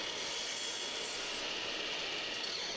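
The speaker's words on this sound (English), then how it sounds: "I'm just going through on the mitre saw." A mitre saw cuts through a piece of wood, producing a loud, dense, continuous rushing and grinding roar that holds steady across the whole short stretch, close up and with no talking.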